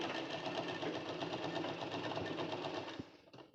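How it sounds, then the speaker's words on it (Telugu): A sewing machine stitching a long frock from slippery cloth runs in a steady, close, buzzing whir for about three seconds, then slows and stops. "ఇలా మిడిల్లోకి పెట్టుకొని ఇలా అయితే స్టిచ్ చేసుకోవాలి."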